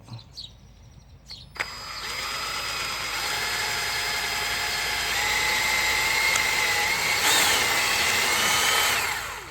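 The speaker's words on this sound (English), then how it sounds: "simply place the drill on that rivet right there" After a few faint clicks, a power drill spins up and runs steadily and loudly, its pitch wavering slightly as it bites into a metal rivet on a throttle body position sensor.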